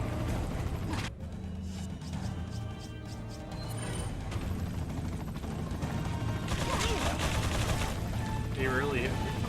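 Gunfire in the Resident Evil 4 boss fight against Saddler, with shots scattered over a busy, loud game mix of mechanical clanks and impacts, plus some voice activity.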